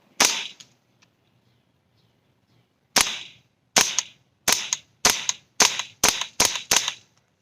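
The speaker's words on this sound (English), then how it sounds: "Let's take a couple of aim shots." A WE Tech XM177 airsoft rifle fires semi-automatic shots: one sharp crack, a pause of nearly three seconds, then eight more snappy reports in a quickening steady rhythm, loud and close, with no voices.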